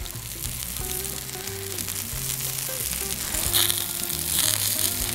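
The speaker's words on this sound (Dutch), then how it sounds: "Ook deze kan nu mooi gaan bakken." Sliced courgette and sweet potato sizzle and fry steadily in oil on an outdoor Ofyr fire-bowl grill, a loud continuous crackling close by with occasional stirring scrapes, and no one speaking.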